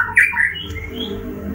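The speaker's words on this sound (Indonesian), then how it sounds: "Burung papa tuh loh, aku ngomong, ikut ngomong." A pet bird kept in a bedroom gives a loud, sharp squawk followed by a few quick chirps close by, then the sound settles into quiet room tone.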